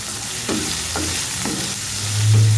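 Sliced bitter gourd sizzles in a little oil in a pan, with several soft scraping stirs of a spatula cutting through the steady frying hiss, close and even.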